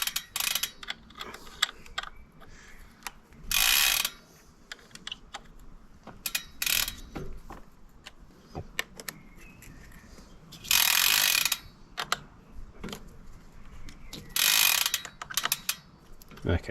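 A ratchet loosens the crank bolts on a bicycle. Quick clicking runs come in bursts with pauses between, plus a few louder rattling spells. Faint and close.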